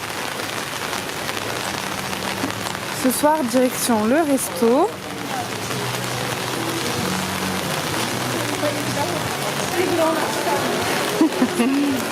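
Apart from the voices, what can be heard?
rain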